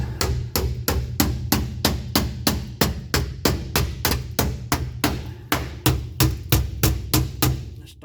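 Body hammer pounding a new steel car floor pan flat, sharp metallic blows in a steady rapid rhythm, close and loud, roughly two strikes per second with no talking.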